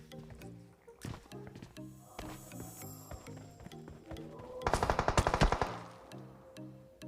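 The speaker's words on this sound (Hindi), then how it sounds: "अभी भी कंटिन्यू कर रहा है वो अपनी फायरिंग" Rapid automatic gunfire in the mobile battle royale game PUBG Mobile, a loud burst of shots in the middle over steady rhythmic in-game background sound, with a voice faintly talking.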